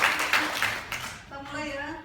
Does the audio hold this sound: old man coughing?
no